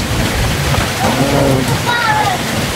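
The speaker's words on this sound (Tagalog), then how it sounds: "Sobrang lakas ng ulan." Steady heavy rain roaring close by, with voices talking faintly underneath.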